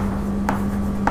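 Chalk or marker writing on a board during an accounting lecture, two brief scratchy strokes over a low steady hum, close and clear.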